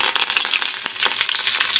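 Curry leaves drop into hot tempering oil for a gongura curry, letting out a loud, dense sputtering crackle with sharp pops, close and steady for under two seconds, with no talking.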